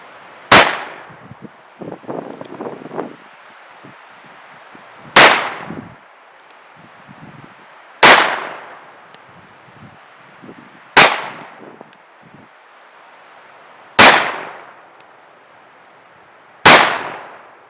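Two repaired Colt revolvers fired at a range in single and double action: six sharp, loud gunshots spaced about three seconds apart, each with a short ringing decay, with quiet handling clicks between them.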